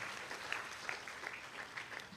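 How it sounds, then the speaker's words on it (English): An audience at a university alumni lecture applauds a keynote speaker: dense, steady clapping from many hands at a moderate level, with no voices rising above it. "Let's clap for him."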